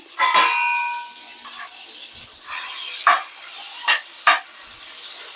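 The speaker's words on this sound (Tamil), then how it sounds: "சூடானவுடனே இதில் என்ன பண்ணியிருக்கோன்னா பட்டை லவங்கம் அப்புறம் சீரகம் கொஞ்சம் சோம்பு எல்லாமே போட்டிருக்கேன்" Whole cinnamon, cloves, cumin and fennel seeds frying in hot oil, with soft sizzling and a few sharp stirring clinks of a utensil against the pan, close and alone without talk.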